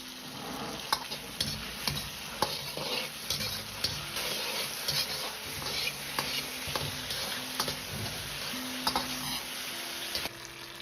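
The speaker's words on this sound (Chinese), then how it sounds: "接着倒入煎好的鸡翅，稍微翻炒几下，炒上颜色。" Chicken wings stir-fried in sauce in a wok: continuous sizzling with repeated spatula scrapes and clatter at an uneven rhythm, close and alone.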